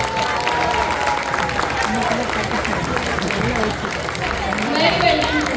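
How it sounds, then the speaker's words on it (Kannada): Audience applause for a children's Ramayana performance by a Kannada school in Toronto, a steady, dense wash of clapping and crowd noise throughout, with a tonal sound running underneath. "ಖಂಡಿತವಾಗ್ಲೂ ಇವ್ರಿಗೆ ಇನ್ನೊಂದು ದೊಡ್ಡ ಚಪ್ಪಾಳೆ ಬರಲೇಬೇಕು"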